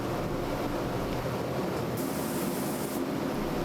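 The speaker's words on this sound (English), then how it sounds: "It has to be sprayed, and then we have to let it dry" A continuous hiss of lacquer spraying onto an organ reed pipe runs steadily throughout, loud and close, with a brighter burst partway through.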